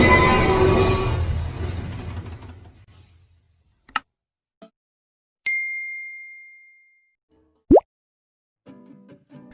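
A single bright notification ding rings out clearly after earlier noisy sound fades, with a few small ticks and plops scattered around it, followed by a short rising tone near the end.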